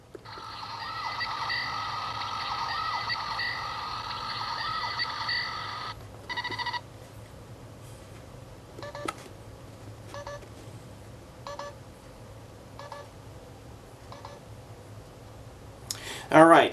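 A 1996 Star Trek tricorder toy gives a steady electronic warbling tone for several seconds, then scattered short beeps and clicks with quiet talk in the background.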